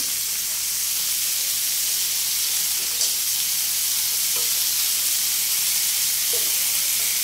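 Chicken pieces sizzle and spit in a hot pan while being gently turned over. The frying hiss is continuous and fairly loud, with a few soft scraping touches, and no one speaks.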